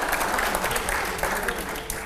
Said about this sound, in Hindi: अगले सवाल से पहले जोरदार तालियां हो